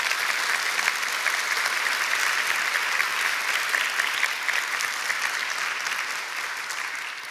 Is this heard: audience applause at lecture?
yes